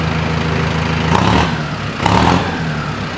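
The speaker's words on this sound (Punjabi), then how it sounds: "ਸਟਾਰਟ ਕਰਕੇ ਦੇਖਿਓ ਇਹਦੀ ਸਟਾਰਟਿੰਗ ਦੀ ਆਵਾਜ਼ ਦੇਖਿਓ" A Mahindra Arjun 605 4x4 60 hp tractor engine idles with a steady low diesel rumble, rising twice in brief revs before settling back to a constant chug.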